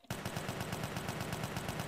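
Rapid automatic gunfire in GTA San Andreas multiplayer roleplay, a fast, even burst of shots that starts abruptly and keeps going without a break.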